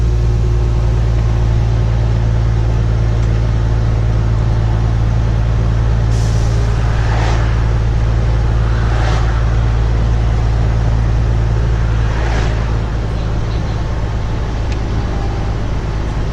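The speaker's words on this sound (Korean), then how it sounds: "엔진 소리 좀 짐 싣고 가고 있는 거고 엔진 소리를 좀 잘 들어주세요" A loaded commercial truck labours uphill with a heavy, steady low engine drone, plus a few short hissing bursts like air releases partway through; no talk, constant loudness throughout.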